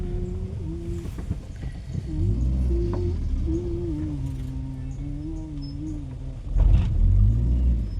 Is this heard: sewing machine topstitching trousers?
no